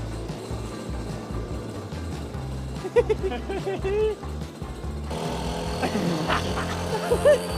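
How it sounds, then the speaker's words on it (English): A cheap mini motorcycle engine running with a buzzy, weed-whacker-like drone, steady and fairly loud with a couple of brief revs near the end, while people talk over it. "It sounds like a weed whacker"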